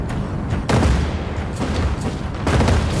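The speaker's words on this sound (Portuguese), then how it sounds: "Nossa, tô atirando atrás dele." Gunfire in the ship-combat game Cloud Pirates, with bursts of booming shots and rattling volleys at roughly 0.7 and 2.5 seconds over a constant rumbling background.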